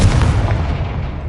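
A Confringo blasting spell from Hogwarts Legacy erupts in a loud, booming magical explosion, its sharp onset followed by a rumbling tail that fades over about a second.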